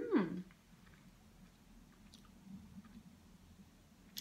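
Someone bites into and chews blue raspberry American candy close up, with one loud initial crunch or mouth sound followed by soft, faint wet chewing.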